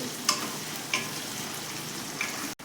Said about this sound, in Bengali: দেখো আমার পেঁয়াজটা ভাজা হয়েছে